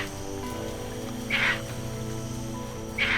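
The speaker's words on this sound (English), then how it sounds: "the dominant male shrieks a warning." A dominant male proboscis monkey in Borneo's rainforest, by a river where a troop is crossing, gives two short high alarm shrieks a couple of seconds apart over a steady hum of insects and forest background.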